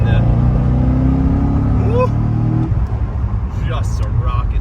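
Engine of a 2006 Chevy Corvette Z06 droning loudly while driving, a deep steady tone that drops off midway as the revs fall, heard from inside the car under someone talking.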